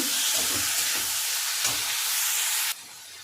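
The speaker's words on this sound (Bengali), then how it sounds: "এবার আমি আলু কুচিটা দিয়ে দেবো আবার খুব ভালো করে একটু নরম করে ভেজে নেব" Chopped potato and carrot fry in a pan with a loud, close, dense sizzle and a few stirring scrapes. The sound drops off suddenly near the end.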